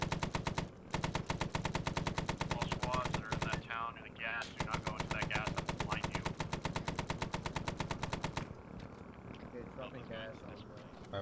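A helicopter door gunner's machine gun hammers out long rapid bursts in a Vietnam-era Hamburger Hill video game mission, with short gaps between strings of fire and faint voices underneath.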